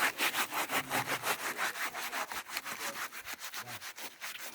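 Ashes being rubbed off a blackened cooking pot during scouring, a steady run of quick, rhythmic scraping strokes, close and fairly loud, with no voices.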